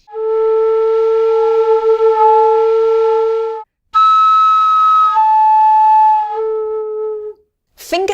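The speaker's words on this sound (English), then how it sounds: "Or you can overblow the notes and hit on the break in between the two octaves." Tin whistle notes overblown so they crack at the break between octaves, a few long sustained tones jumping between registers with brief gaps, loud and close, played alone.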